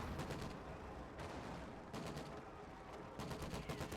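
Sustained gunfire from squads in the Company of Heroes 2 wartime strategy game, with dense rapid bursts that come in waves, loud and continuous throughout.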